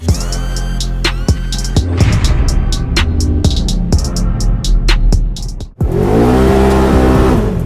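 A Polaris RZR XP1000 off-road vehicle drives hard, its loud close engine revving and changing pitch under wind buffeting and rattling bumps, then climbing again after a brief dip.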